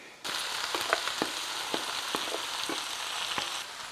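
Rice for sausage fried rice hitting a hot pan and frying: a steady, loud sizzle with scattered crackling pops, running continuously after a sudden start.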